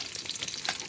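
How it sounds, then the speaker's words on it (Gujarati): Garlic sizzling in hot oil while cooking palva fish, with a dense, steady crackle and hiss throughout a brief moment, close and fairly loud, with no talking. "ઓકે તેલ મૂકી દીધેલું હતું ને હવે આપણે નાખી દઈશું એમાં લસણ"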